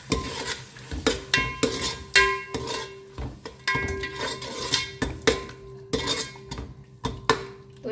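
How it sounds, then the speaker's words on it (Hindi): A metal spoon stirs yogurt into tomato masala in a pan during biryani cooking, making rapid repeated clinks and scrapes against the pan in an uneven rhythm, close and clear, with no talking. "इसमें डाल देते हैं। अच्छे से इसे मिक्स करें।"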